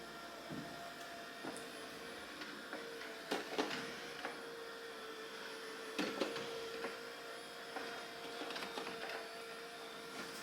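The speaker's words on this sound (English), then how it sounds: "So this will drive around and mop for a little while until it feels like the pads are getting dry." A Narwal T10 self-cleaning robot mop drives around mopping a floor with a steady mechanical whir and hum, broken by occasional knocks and scraping bumps.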